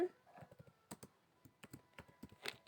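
Keys on a computer keyboard clatter steadily as C program code is typed, an uneven run of close, distinct clicks and taps with brief pauses between bursts, heard alone without talk.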